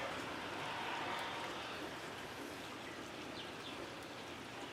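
Rain falls steadily outdoors in a dense, even hiss of drops hitting surfaces, continuous and fairly close with no talking.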